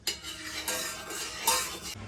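A spoon stirs a glass of hot lemon juice drink, giving a few quiet, close clinks and scrapes against the glass over about two seconds.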